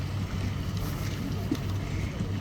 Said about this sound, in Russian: Какой ветер какой